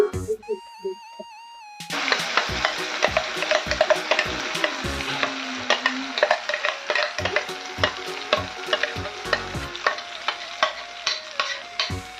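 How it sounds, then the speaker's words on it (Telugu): A spoon stirs thick chutney up close, producing repeated sharp scrapes and taps against the bowl in a quick, uneven rhythm. "పల్లీ చట్నీని ఇలా ముష్టంగా కలుపుకోవాలి ఫ్రెండ్స్ అన్నీ కలిసేటట్టు ఇలా కలుపుకోవాలి"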